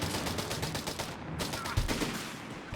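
Rifle fire in Company of Heroes 3 battle, rapid bursts of gunshots crackling in a fast repeating rhythm, fairly faint and distant, with brief pauses and a low thump partway through.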